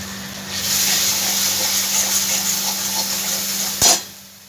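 Spices frying in a pan while making a rohu (katla) fish curry with Radhuni spice paste, a steady close sizzle and bubbling that holds throughout, ending with a short sharp burst and sudden quieting.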